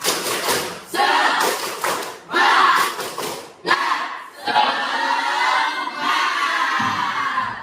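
A classroom of students performs a rhythmic clapping chant routine, loud bursts of clapped beats alternating with group shouting in a patterned sequence, followed by sustained collective voices.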